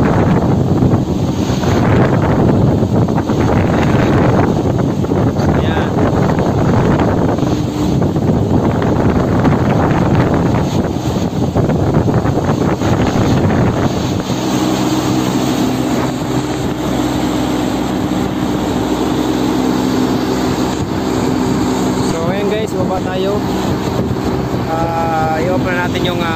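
York unit fan motors run continuously with a loud, steady roar and airy whoosh, with a tonal hum settling in partway through as the motors keep spinning.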